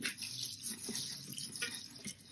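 Basmati rice being rinsed in water in a home kitchen for coriander rice, with steady splashing and trickling close by, like water running from a tap, continuous throughout with brief sloshing bursts.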